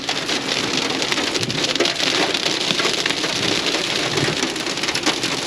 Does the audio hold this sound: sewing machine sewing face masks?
no